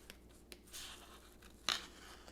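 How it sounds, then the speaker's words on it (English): Brief snips and crisp paper rustles come in a few quick, close bursts against a quiet background. "So now I'm going to take my scissors and I'm going to cut around him."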